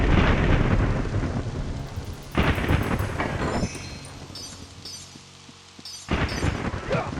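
Steady rain hisses in a ninja video game, broken by loud rolling thunder claps that swell and fade and then return near the end, with no talking.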